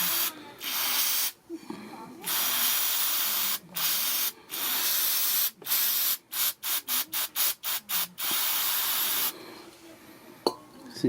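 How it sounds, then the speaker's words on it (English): Repeated hissing bursts of an aerosol spray can aimed at a plastic seat motor gear of a 2004 Infinity FX35, long blasts then a rapid series of short squirts, loud and close, separated by brief pauses. "I'll spray it so you could see it"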